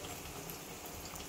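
Brinjal fritters (beguni) bubbling and crackling steadily in hot oil, a dense close hiss of popping bubbles throughout with no talking.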